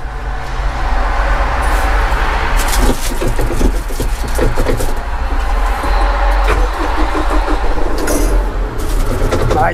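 A Kubota M5-112 tractor engine runs close by with a steady, heavy low rumble and a broad mechanical roar, with a few sharper bursts rising over it and no talking.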